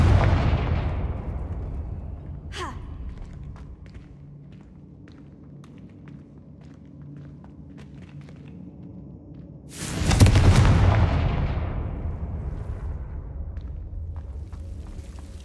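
Two booming blasting-curse explosions from the Hogwarts Legacy video game, the first a sharp crack that fades under a low rumble, the second a louder, broader burst followed by a long decaying roar.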